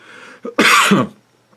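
A single harsh cough, short and loud, preceded by a brief throaty catch, then quiet.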